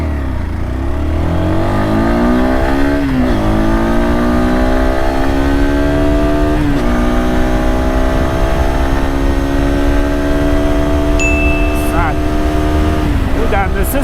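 A Galaxy NH250 motorcycle pulls hard through its gears on a windy ride. The engine note climbs in long sweeps, each broken by a brief dip at the gear change. Loud wind rush and a rider's voice run over it.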